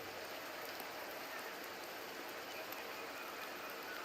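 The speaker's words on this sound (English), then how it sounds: "The rains in Septimont never seem eager to leave this season." Steady, dense rain falls throughout a scene in the video game Wuthering Waves, a constant broadband hiss at even loudness with no gaps and no voices.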